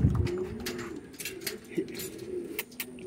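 Pigeons at a backyard loft give soft, repeated low coos at close range, several throaty calls overlapping across a few seconds beside light rustling and a brief knock at the start.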